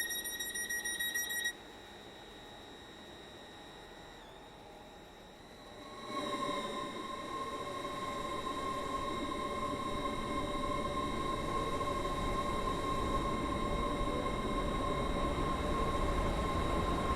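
An SE Class 801 train on an express service toward Stepford Central, its steady electronic tones shifting as the running noise rises into a continuous rumble and hum that builds and holds to the end, with no voices.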